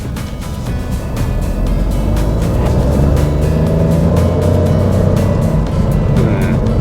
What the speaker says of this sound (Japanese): ちょっとね制限速度内の加速をやってみようと思います。 0から60の加速ですね。